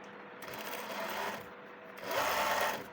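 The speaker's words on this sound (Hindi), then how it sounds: "इस तरह से इसको रखेंगे और यहाँ पर इस पे लगा देंगे सिलाई।" A sewing machine stitches a strip for a salwar in two quiet, steady runs of rapid mechanical whirring, separated by a brief pause, with no talking.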